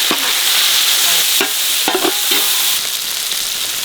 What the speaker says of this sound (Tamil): வெங்காயம் நல்லா பொன்னிறமாக வதங்கி வந்துருச்சு.